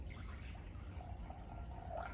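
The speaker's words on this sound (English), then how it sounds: "I have a huge Erlenmeyer flask full of water. So I'm gonna go ahead and pour that into my empty bowl." Water pours from a large Erlenmeyer flask into an empty bowl, a faint, soft trickle and dripping splash, quiet and steady without any talking.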